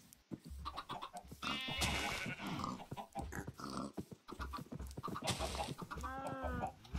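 Minecraft farm animals, chickens, sheep, pigs and a cow, make repeated short clucks, bleats and grunts in a quiet farm scene. The calls come in uneven bursts at a moderate distance, with no talking.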